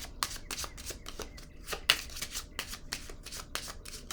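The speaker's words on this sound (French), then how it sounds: "Je vais déposer une carte sur la bleue." Tarot cards are handled and laid down in a quiet room, producing a steady series of soft, crisp card slaps and flicks, close and faint, with no talk.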